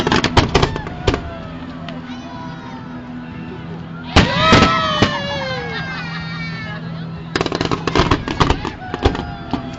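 Fireworks bursting over a ship at Mall of Asia, loud sharp crackling volleys and booming blasts with whistling trails, while spectators talk and exclaim nearby.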